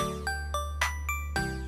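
A notification bell chimes five times in quick succession, bright tinkling dings layered over a steady low hum, with no talking.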